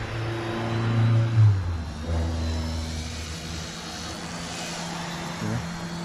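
A small Eachine E110 RC helicopter lifts off in light wind, its motors and rotor giving a steady nearby whine with a low hum that swells briefly around the one-touch takeoff, then holds level as it flies.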